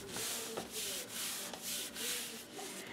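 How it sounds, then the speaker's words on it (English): Paper being rubbed down firmly over fresh glue in a handmade album, a steady run of dry scraping strokes repeated in rhythm, close and fairly loud with no talking. "just give it a nice rub down so that that's all caught and you don't have any extra glue hanging out anywhere"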